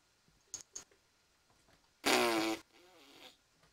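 A fart sound effect plays in Minecraft as one loud, buzzy blast lasting about half a second, followed by a quieter rasp, after a few faint clicks.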